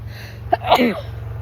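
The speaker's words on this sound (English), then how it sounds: "I'm gonna sneeze." A single sharp sneeze, a quick inhale then an explosive burst, close to the mic over a low steady hum.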